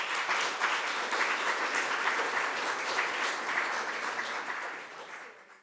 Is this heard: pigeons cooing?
no